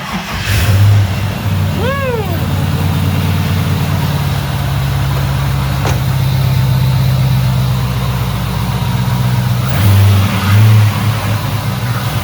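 Toyota Corolla T18 engine running near and loud, holding a steady idle and rising briefly in short revs near the start and again toward the end, with no speech over it.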